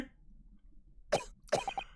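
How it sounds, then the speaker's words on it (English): A character in The Great Ace Attorney Chronicles video game coughs: one single cough, then a quick cluster of short hacking coughs, close and distinct against a quiet background. "You're gonna start coughing up blood again?"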